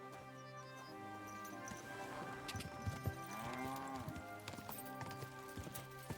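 Horse hooves clip-clop steadily through a busy Kingdom Come: Deliverance 2 game soundscape, with layered background music and ambient effects.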